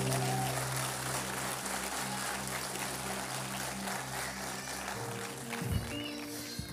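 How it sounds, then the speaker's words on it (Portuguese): A church congregation applauding during a Sunday service, moderately distant clapping spread evenly across the room, with sustained organ or keyboard chords holding underneath and a short bump of louder noise near the end. "Você pode aplaudir a Jesus?"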